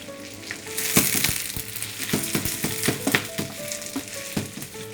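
Steady close sizzle of onions softening in a pan over medium heat for chicken pathia, with occasional clinks and scrapes of stirring over the hiss.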